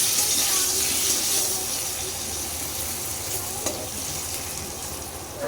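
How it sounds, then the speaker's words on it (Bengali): Potatoes seasoned with turmeric and salt fry in a pan, giving a steady, close sizzle with faint stirring scrapes throughout, and no one talks over it. "আর আলু ভাজতে দিয়েছি,"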